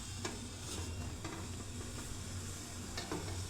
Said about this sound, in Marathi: हे पण एका साईडने शिजलेले एका साईडने थोडी कच्ची आहे पाच मिनिटामध्ये ही वडी शिजून आपली तयार होईल